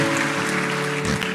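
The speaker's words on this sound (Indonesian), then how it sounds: "Sekali lagi kita berikan tepuk tangan yang meriah buat Tuhan Yesus" Audience applause at a church gathering honouring Jesus, a steady wash of clapping from many hands, fairly loud and continuous, with faint tonal music humming underneath.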